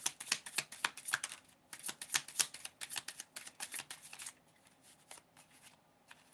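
Oracle cards being shuffled, a rapid run of crisp, close riffling flicks that goes on for several seconds and then thins out into a few scattered taps.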